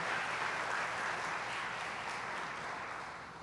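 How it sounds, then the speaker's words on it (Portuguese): A church congregation at a Portuguese-language family worship service applauds in a dense, steady wash of clapping that holds close and even, then gradually thins and fades toward the end. "Pode aplaudir mais forte se você está entendendo."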